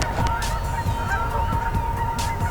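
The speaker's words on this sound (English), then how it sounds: "Look at all the ducks." A flock of big ducks honks outdoors, with repeated nasal calls over steady background noise.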